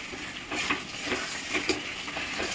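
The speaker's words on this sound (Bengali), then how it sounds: "এই যে মশলা কষানো হয়ে গেছে," Spice masala sautéing in a pan for a vegetarian jackfruit-and-chhena kofta curry, a steady close sizzle with soft scraping stirs of a spatula every half second or so.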